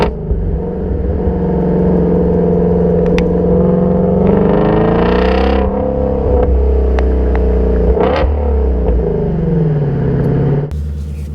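Ford Shelby GT350 V8 revs hard and accelerates close by, its loud engine note climbing steadily through the gears with brief dips at each shift and no talking over it.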